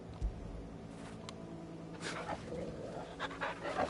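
A dog in the video game Final Fantasy XVI pants softly and lets out faint whimpers over a steady low ambient game background, fairly quiet and close.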